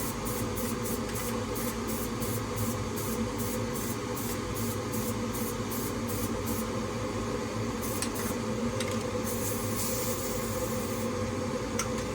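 Rapid bursts of a paint spray gun hiss in a quick repeating rhythm over a steady mechanical hum in a DIY paint booth with a 150 cfm 6-inch ducted exhaust fan, then pause and resume in longer blasts.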